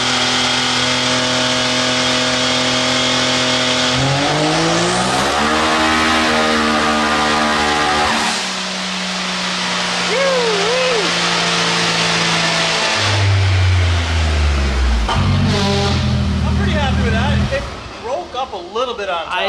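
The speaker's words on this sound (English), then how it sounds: "We pump some more boost into it, make another pull, see what she does." A turbocharged drag car engine run on a dyno with a few extra pounds of boost, revving hard through a long pull with rising harmonics, then dropping back and surging again, loud and close, with brief talk near the end.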